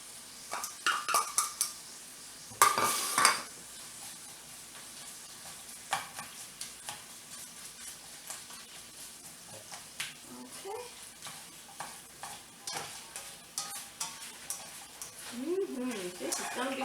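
Garlic and onions sauté in a pan, a soft steady sizzle broken by spoon stirs and scrapes against the cookware, with clinks of utensils throughout.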